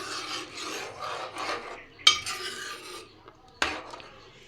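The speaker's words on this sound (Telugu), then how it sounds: "వాటర్ వేసుకున్నాం కదా, మొత్తం కలిపేసుకుందాం." Spoon scraping and stirring a pot of drumstick, egg and dried fish curry, a series of rasping strokes with two sharp knocks against the pot, close and fairly quiet.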